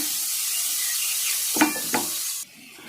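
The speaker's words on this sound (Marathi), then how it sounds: "आधी कांदा कच्चा भाजून घ्यायचा आहे आपल्याला" Raw onion dry-roasted in a pan with no oil, a steady soft hiss with two brief stirring scrapes near the end before the sizzle drops away.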